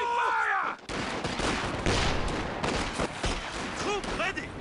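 Battle in Company of Heroes 2: dense, continuous gunfire and blasts rumble together after a brief voice at the start, loud and sustained with scattered sharper cracks throughout.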